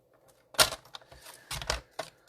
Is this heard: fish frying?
no